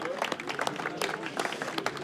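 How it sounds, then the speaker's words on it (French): Crowd applause with scattered clapping and some cheering at the Land Legend 2023 event, steady throughout, with voices mixed in underneath. "On peut les applaudir encore une fois."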